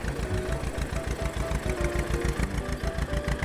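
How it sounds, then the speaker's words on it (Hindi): A tractor engine runs with a steady, rapid low chugging throb, close and continuous without pauses. "तब वो ट्रैक्टर रैं रैं करके स्टार्ट हुआ और उसे चलाते हुए घर तक ले आए।"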